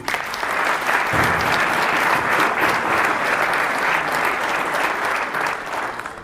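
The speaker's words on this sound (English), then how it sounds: "Please join me in a round of applause" Sustained, dense applause from a large audience at a Vietnam War 50th anniversary lecture series, holding steady and full before tapering slightly at the close.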